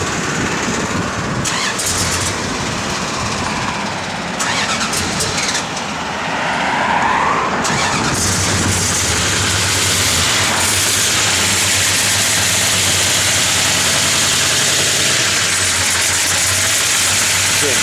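A 1968 Plymouth Road Runner with a 440 V8 and an aggressive cam cranks and fires up, then settles into a loud, steady, rumbling idle close by, with some background noise before the start.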